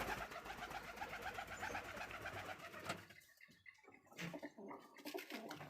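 Domestic pigeons kept alongside rabbits coo in soft, repeated low calls close by, with a steady busy backdrop for the first half before a quieter stretch broken by a few brief noises.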